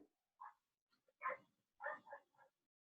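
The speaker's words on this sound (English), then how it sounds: "there's a dog barking outside." A dog barks outside in short, muffled bursts, a few scattered woofs and yips heard from a distance against an otherwise quiet room.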